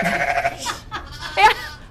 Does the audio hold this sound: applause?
no